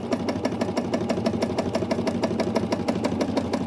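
A sewing machine runs fast and steady, its needle thumping in a rapid even rhythm while stitching a child's vest, close and continuous.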